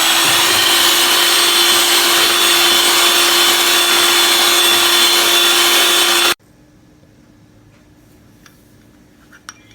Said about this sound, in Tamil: இப்போ பீட்டரில் அதுக்குண்டான பிளேடு போட்டு ஒரு 1 நிமிஷம் கலக்கணும்